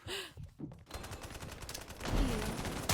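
Rapid automatic gunfire from a video game, bursts of loud crackling shots that run steadily and swell toward the end, with no speech.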